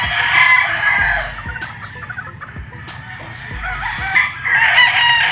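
Gamefarm roosters crow loudly in long drawn calls while chickens cluck and squawk around them in a spacious pen at Firebird Gamefarm, with several overlapping birds near and far and no talking.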